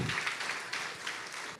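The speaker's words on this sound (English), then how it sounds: "Let's give them a lusty round of applause for the wonderful effort presented this evening." A crowd at a Phagwa celebration claps in a dense, steady wash of applause for performers, close and continuous through the short span before tapering slightly at the end.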